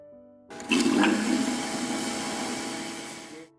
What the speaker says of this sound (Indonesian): kemudian nyalakan pompa vakum